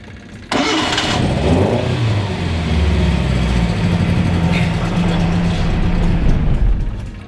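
A Nissan Sunny truck (Sunny Truck pickup) with its large exhaust muffler removed cranks and fires up, then settles into a steady, loud, rumbling idle with slight revving, heard close and alone.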